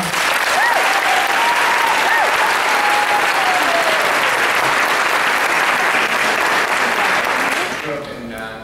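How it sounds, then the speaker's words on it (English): An audience applauds at a high school fundraiser recognition, giving loud, dense, sustained clapping that fades slightly at the end, with a voice faintly audible beneath. "Let's give her a round of applause."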